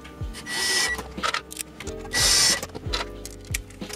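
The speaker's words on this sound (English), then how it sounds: "now that the radio's in place, we'll put back in our screws" A power tool drives screws back into the radio mount of a 2019-2021 Toyota Land Cruiser, with two sustained whirring bursts and short motor pulses and clicks between them, close and loud.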